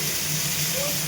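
Onions fry in a hot pan with a steady, broad sizzling hiss that holds even and close throughout a brief stretch, with no clear breaks or other sounds standing out.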